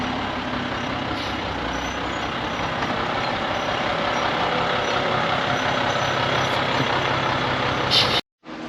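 Volvo F7 truck pulling up with a steady, loud diesel rumble and broad engine noise throughout, a brief hiss near the end like an air brake.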